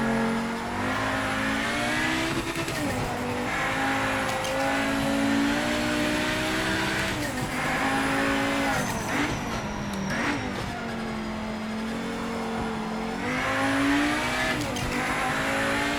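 Race car engine in the Project Motor Racing video game, with steady high revving, gear shifts and rising and falling pitch throughout, plus brief tire squeal under braking; no talk.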